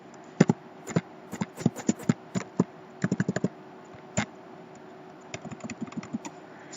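Keys on a computer keyboard clack close by in quick irregular bursts of taps with short pauses between runs, no voices over them.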